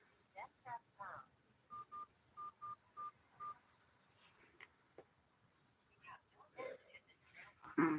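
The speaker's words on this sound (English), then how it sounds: "Please enter your password. Then press pound." Telephone keypad tones sound as a voicemail password is entered, a run of short, evenly spaced beeps, surrounded by faint speech and a recorded voice prompt.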